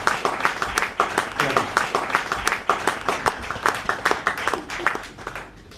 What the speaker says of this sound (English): I want to give a round of applause to our